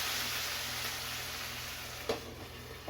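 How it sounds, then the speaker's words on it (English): Steady, hissing sizzle of water hitting a hot pan of vegetables for a curry lamb tagine, continuous and close, with a couple of brief louder pops near the end. "And then add the water. Hear that sizzle?"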